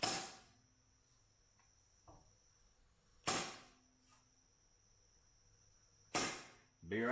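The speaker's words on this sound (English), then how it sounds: "So let's start center punching them after those first 7." Center punch being struck to mark holes for RGB pixel light bulbs on a house, three sharp, loud, ringing taps spaced about three seconds apart, close, with a faint clatter between.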